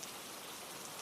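Faint, steady rainfall patters evenly on a surface, a soft continuous hiss with no voices or other sounds.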